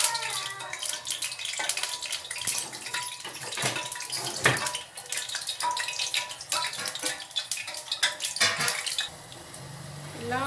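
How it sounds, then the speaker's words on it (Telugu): Water is poured into sugar in a pan to make syrup, giving an irregular splashing, trickling pour with bubbly gurgles and a few clinks, close and moderately loud. "పాకం చేయడానికి ఇలా 1 కప్ చక్కెరకి 1 కప్ వాటర్ వేసుకొని ఇలా పాకం పట్టుకోవాలి"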